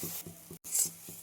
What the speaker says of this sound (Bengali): তো আমি কালো জিরা ফোড়ন দিয়ে দিচ্ছি